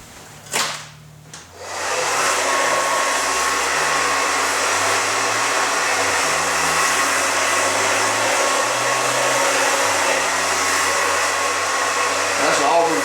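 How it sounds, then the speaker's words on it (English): A handheld hair dryer blows steadily and loudly on a salon client's auburn hair during a layered haircut, a continuous whooshing roar after a brief start, with faint shifting hum beneath. "I'm gonna dry this just a little bit now"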